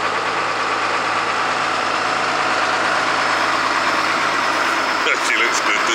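A Ford TW25 tractor engine revs up close, a loud, steady mechanical drone with a rough low rumble that holds throughout, with a brief clatter near the end.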